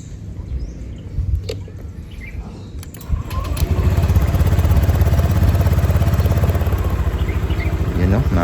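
A Honda Click 125 scooter engine starts after faint birdsong and handling sounds, then settles into a steady, close, low idle rumble that continues to the end.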